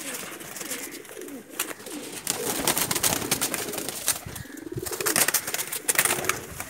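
Rampuri cross teddy pigeons cooing in a loft, with soft repeated coos mixed with rustling and wing flutters, close by and fairly busy throughout.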